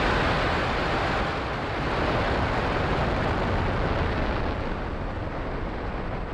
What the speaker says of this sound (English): Engines full power and liftoff of Starlink 437.